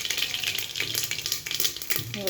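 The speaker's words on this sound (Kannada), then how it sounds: "ಹಂಗೆ ಸಾಸಿವೆ ಹಾಕ್ತಾಯಿದ್ದೀನಿ" Mustard seeds crackle and spit in hot oil along with curry leaves, a dense steady sizzle with sharp popping bursts scattered throughout, close and fairly loud, with no talking.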